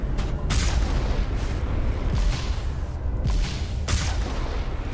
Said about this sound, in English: Let's take 2 shots from the main gun to take out.